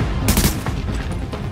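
Several sharp gunshots ring out in quick succession as a player fires at an enemy in Tom Clancy's The Division, loud and close, then trailing off into a few scattered shots.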